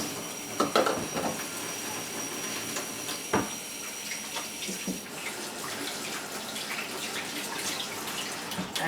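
Water runs steadily from a tap with occasional splashes and clatter as hands are rinsed beneath it; no one speaks.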